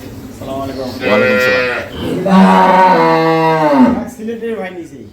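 Dairy cows and calves at a farm in Sylhet, with two long, loud moos close by, one after the other, and a fainter lowing call after them.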